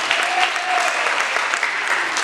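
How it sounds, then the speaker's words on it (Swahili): A congregation at a Sunday church service in Nairobi claps loudly and steadily, a dense continuous round of applause from many hands filling the room. "Tupigie Yesu makofi mazuri."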